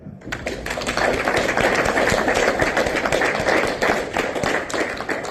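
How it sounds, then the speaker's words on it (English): Round of applause at a lodge meeting: many people clapping steadily and loudly in a small room, sustained for several seconds with sharp individual claps audible within the crowd sound. "So I think he deserves a round of applause."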